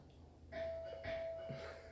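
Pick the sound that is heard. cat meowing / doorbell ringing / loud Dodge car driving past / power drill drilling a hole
doorbell ringing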